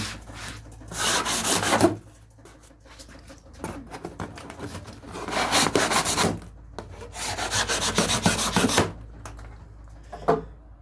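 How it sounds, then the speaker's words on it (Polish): Knife cutting and tearing open packaging on parcels, with bursts of scraping, rubbing and ripping in several separate passes, close and fairly loud, with short quiet gaps between. "bierzemy nóż i odpakowujemy paczuszki"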